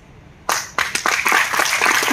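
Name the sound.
applause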